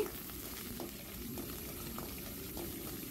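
Curry leaves and green chillies fry in hot oil for a bottle gourd stir-fry, a faint, steady crackling sizzle with small bubbling pops throughout.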